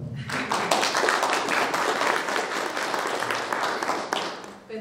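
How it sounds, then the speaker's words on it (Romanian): An audience at an indoor gathering breaks into applause, with many hands clapping at a steady, lively level that fades slightly at the end. "Și să o așa aplaudăm."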